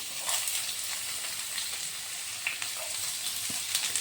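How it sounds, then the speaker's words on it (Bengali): Chopped onion and garlic fry in hot oil, a continuous soft sizzle and hiss with scattered light crackles and no voices. "এখন আমি তেলের মধ্যে দিয়ে দিচ্ছি প্রথমে পেঁয়াজ কুচনো, তারপরে দিয়ে দিচ্ছি রসুন কুচনো"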